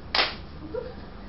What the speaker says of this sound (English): Just follow your own clap.